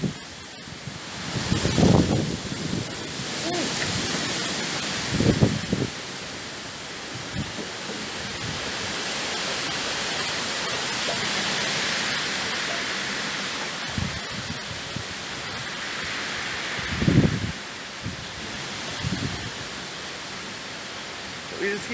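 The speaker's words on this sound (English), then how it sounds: "We just keep getting big gusts of wind like that." Strong wind gusts outdoors in a garden during a stormy spell, rushing in broad surges that rise and fall, with a few louder buffeting bursts against the microphone.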